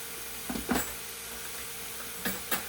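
About two pounds of meat browning in a frying pan, a steady soft sizzle with a few brief scraping stirs, quiet and close.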